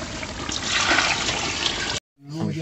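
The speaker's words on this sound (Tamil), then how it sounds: "இப்போ நம்ம ஃபுல்லாக தண்ணி ஊற்றிடுறோம்." Water is poured into soaking rice for chicken biryani, a steady close splashing stream that runs for about two seconds and stops abruptly. A voice begins speaking just after.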